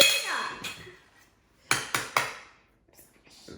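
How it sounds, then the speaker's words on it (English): A fork mashes banana in a bowl for millet flour banana bread. A few sharp, close metallic clinks and taps sound in quick succession against a mostly quiet background. "We just smashed the banana."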